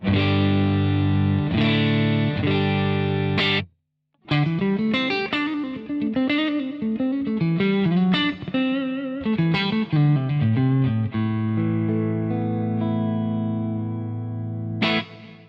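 A dry electric guitar through a Divided By 13 CJ11 tweed-style amp, played as chords and a run of single notes, with a brief pause and a final strummed chord, no added echo.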